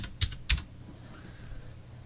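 A few quick keystrokes on a computer keyboard while entering text in a spreadsheet, two short clusters of clicks close up, then quiet room tone.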